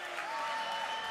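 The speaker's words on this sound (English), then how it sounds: "listen to this crowd give their appreciation" Crowd at a SoCal Pro Wrestling show in Vista, California applauding as both wrestlers rise, a steady distant wash of clapping with a faint tonal hum running through it.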